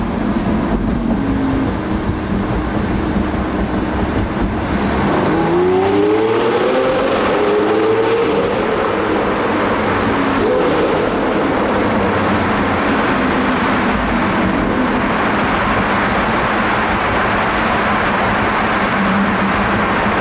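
A Lamborghini Aventador LP700-4's engine revs loud and close, rising and falling in aggressive bursts under a steady roar, with no talking.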